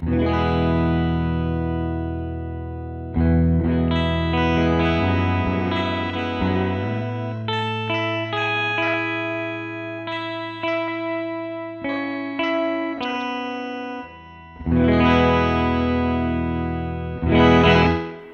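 Sustained guitar chords through a Red Panda pitch-shift pedal set a full octave up, shimmering, bright and full, with several swelling bursts and a loud final strike.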